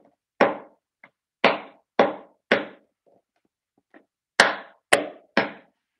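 A hammer strikes a glued box made of layered pressboard, seven or eight sharp, close knocks in uneven pairs and bursts with short pauses between them, no voices.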